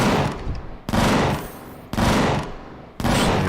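Bursts of automatic gunfire in a shooting video game, three or four loud sustained volleys separated by short gaps, close and dominant with no talking.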